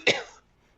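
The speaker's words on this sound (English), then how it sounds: "A cough can be heard in the distance." A single cough rings out in an animation studio, one short sharp burst trailing off within half a second, with no talking around it.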